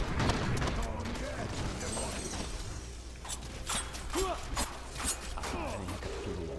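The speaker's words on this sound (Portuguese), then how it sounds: "Aí o disparo evasivo, ó." Evasive Fire skill shots in Diablo 3 on Xbox One, a busy stream of clattering, crackling game effects with scattered sharp bursts, mixed with ongoing game sound and voices.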